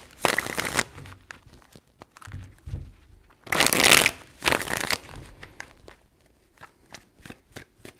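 Tarot cards shuffled three times, bursts of papery riffling and crinkling with brief pauses between, close and moderately loud, no talking over them.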